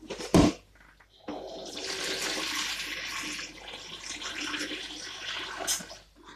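Kitchen tap water gushes into a container for several seconds after a short splash, a steady rushing flow that varies slightly in strength, with no talking.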